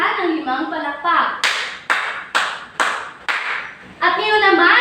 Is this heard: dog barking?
no